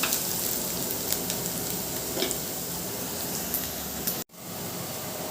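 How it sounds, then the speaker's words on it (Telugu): Sliced onions frying in a pan until brown for a mushroom masala curry, a steady dense sizzling hiss heard close, with a brief cut near the end. "ఇంకొంచెం బ్రౌన్ అవ్వాలి ఆనియన్"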